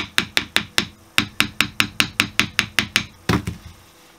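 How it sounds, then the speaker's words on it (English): About fifteen sharp, evenly spaced taps from a plastic screwdriver handle striking a stuck part on an ASP 91 model engine, close and crisp with short pauses between groups. "I've tried tapping it with a plastic screwdriver handle"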